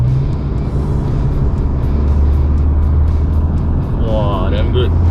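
An Isuzu D-Max pickup truck drives along with a loud, steady engine and road roar heard from inside the cabin; a voice speaks over it and a brief chirping tone rises near the end.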